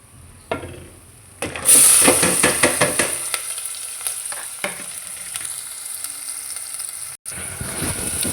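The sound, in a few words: chopped onions frying in oil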